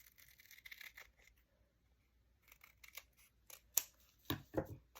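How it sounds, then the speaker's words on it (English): Scissors snip and trim junk mail envelope paper in a series of faint, close cuts with a few sharper clicks and rustles of paper near the end. "So I'm just going to do a bit of trimming."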